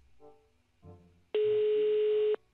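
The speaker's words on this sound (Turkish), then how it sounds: "Dur ben şunu bir arayayım. Evet, çalıyor." An outgoing phone call in the Minecraft video game gives one steady electronic ringback tone lasting about a second, loud and clean after brief quiet speech-like sounds.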